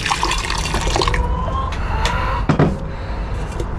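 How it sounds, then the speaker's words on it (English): Hot water poured from a kettle into a pile of recovered gold, a splashing, filling stream with drips that thins out, then a few clunks and trickles. "I've got the kettle here, so I'll put some hot water in"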